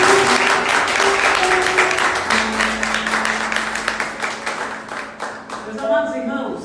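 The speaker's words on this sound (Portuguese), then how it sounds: "Aplauda Jesus mais uma vez." A church congregation claps together in dense applause that gradually thins toward the end, with a sustained musical tone running underneath and a few scattered late claps.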